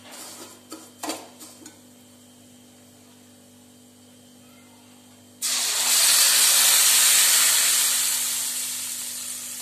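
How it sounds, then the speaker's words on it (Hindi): Milk poured into a hot pan of fried vermicelli bursts into a loud, sustained hiss and sizzle that starts suddenly after a few quiet kitchen clinks, then slowly fades. "अभी हम इसके अंदर दूध डालेंगे।"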